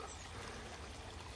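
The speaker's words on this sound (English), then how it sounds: "Bit of that lovely waterfall" Steady broadband rush of falling water from a waterfall at a wildlife park in Devon on a hot sunny day, continuous and fairly distant, with no talking over it.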